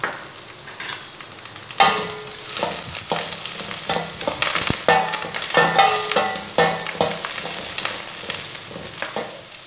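Onions sizzle in a pan with curry leaves and dried red chillies for a mutton pepper gravy, with a crackling fry and repeated stirring and scraping over close, fairly loud bursts. No talking.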